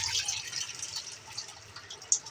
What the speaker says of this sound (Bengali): একটু ঠান্ডা পানি দিয়ে দিলাম।